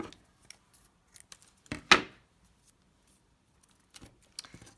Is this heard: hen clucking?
no